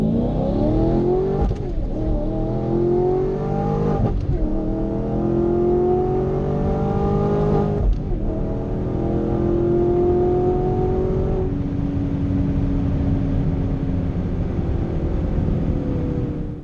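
A supercharged 2017 Camaro SS roars hard down a drag strip, its engine note climbing steeply through several gear shifts. The loud, close, sustained acceleration runs unbroken with no talking.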